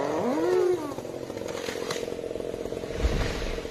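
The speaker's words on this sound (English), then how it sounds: "He started the steel MS-460 chainsaw, the roar of the engine reverberating in the quiet space" A steel MS-460 chainsaw runs at full power while cutting a huge uprooted tree trunk in a quiet forest. Its loud, steady engine roar opens with a rising whine, and a dull knock comes near the end.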